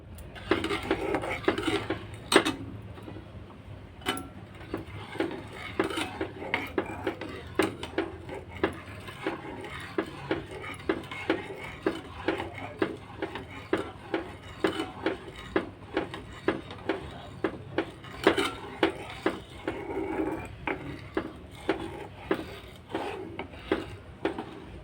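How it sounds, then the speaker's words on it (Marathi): A spoon scrapes and knocks against a pot while cornflour milk mixture is stirred for mango ice cream, a repeated rhythmic clatter and rasp that carries on for the whole stretch with no talking. "हे ढवळत राहायचं सारखं, ते मिश्रण घट्ट होत नाही तोपर्यंत."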